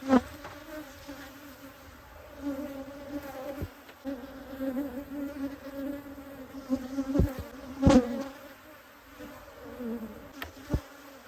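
Honey bees buzz around an opened hive in the Texas Hill Country during a spring inspection, a steady stirred-up hum with occasional louder passes as single bees fly close.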